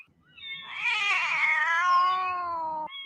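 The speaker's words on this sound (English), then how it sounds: "I'm so sick of all these cats." A cat gives one long, loud, drawn-out yowling meow, a harmonic wail that rises and then slowly falls for about two seconds, close by with no talking.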